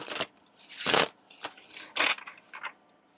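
Tarot cards shuffled by hand in a series of crisp papery riffles and shuffles, close and fairly quiet, with short pauses between bursts and no talking.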